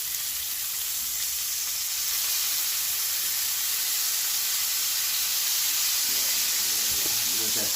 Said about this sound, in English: Let that steam up a little.